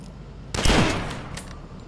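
A gun turret in the shooter Dusk lets off a short burst of fire, a loud rattling blast that swells and trails off over under two seconds.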